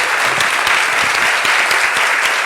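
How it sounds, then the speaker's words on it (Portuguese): Loud, dense applause from a live podcast audience in a room, continuous many-handed clapping at steady intensity with no pauses. "Palmas, palmas de verdade."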